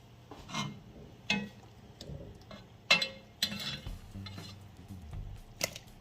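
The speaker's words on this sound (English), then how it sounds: "we're going to just turn our pot roast over carefully" A spoon scrapes and clinks against a Dutch oven while a pot roast is carefully turned over, with soft rubbing, scraping and a few sharp metallic taps spread across the moment, faint and close.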